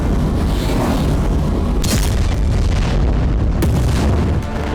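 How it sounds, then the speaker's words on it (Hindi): Loud, sustained rumbling from a bombing with two sharper blasts rising out of it, like heavy explosions echoing through a wide area. "कहीं एक साथ दर्जनों बम बरस रहे हैं,"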